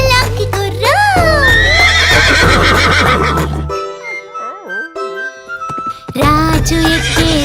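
A horse neighs and whinnies in a Telugu children's rhyme about a lively horse, with long wavering calls and clip-clop hooves set against bright music, loud and upfront.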